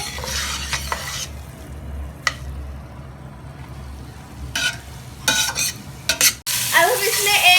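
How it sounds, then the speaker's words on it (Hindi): Carrot halwa roasts in desi ghee, a soft sizzle under repeated bursts of stirring and scraping of a spoon through the thick mixture in a pan, growing louder toward the end. "अब हमने इसमें देसी घी ऐड कर लिया है और अब हम इसकी अच्छे से भुनाई करेंगे।"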